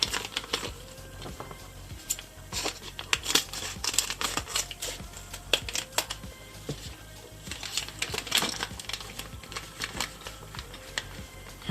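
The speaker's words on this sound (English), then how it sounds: "Go ahead and open up this bag." Plastic bag of Zuru Mini Brands toy kitchen pieces being torn open and handled, a steady crinkling and rustling with sharp crackles and small clicks, close and continuous with no talking.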